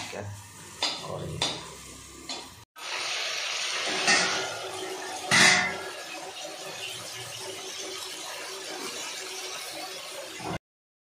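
Onions fry in a pan for a crab masala: a few clattering knocks at first, then a brief cut before a loud, steady sizzle with occasional stirring scrapes that continues until the sound stops abruptly.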